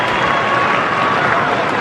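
Cricket crowd at Adelaide Oval cheering and applauding a one-day international boundary, a dense, steady roar of clapping and voices filling the whole short stretch without letting up.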